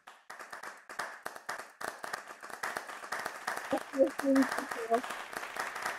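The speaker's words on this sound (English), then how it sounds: "The winner goes to none other than Michelle, Dinesh, Matthew from Team B. Round of applause." Scattered audience clapping after the winning team is announced at a debate session on Malaysia's whistleblowing protection law, a steady patter of hands at moderate distance with voices murmuring underneath.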